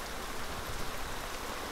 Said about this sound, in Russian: теперь пошел эффект дождя